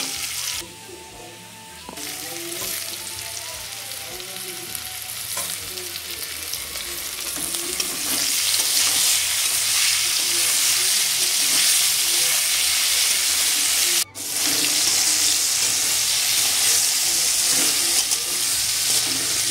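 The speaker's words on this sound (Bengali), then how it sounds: "উচ্ছে আর আলুগুলো প্রায় ভাজা ভাজা হয়ে এসেছে।" Bitter gourd and potato pieces fry in a pan, a loud continuous sizzle that builds and stays strong, with stirring scrapes throughout and a momentary cut near the end.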